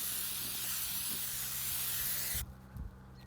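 Amsoil Mudslinger sprays out of an aerosol can in a steady, close hiss that runs for over two seconds, then cuts off, leaving a few soft handling knocks behind it.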